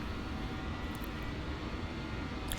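A BAe146-100 airliner's jet engines roar at full throttle in the X-Plane 11 flight simulator, a steady, dense engine rush that holds constant throughout.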